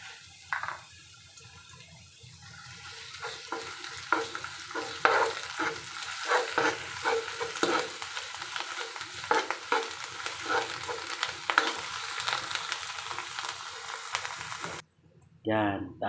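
Shrimp paste (bagoong) stirred into a frying pan, with a steady sizzle and repeated scraping stir strokes through most of the clip, then a brief pause and a short burst of sizzling at the end.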